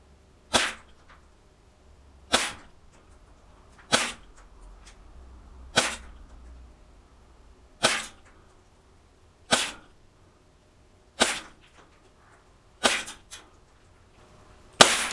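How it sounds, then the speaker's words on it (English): A Gletcher TT-A Tokarev CO2 blowback airsoft pistol fires eight or nine sharp, snappy shots at a target, evenly spaced about every one and a half to two seconds, each a crisp crack with a quick decay and no talking. "I'm going to shoot bottom ring center."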